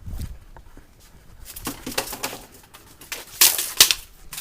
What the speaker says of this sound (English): Trying to find the birds now.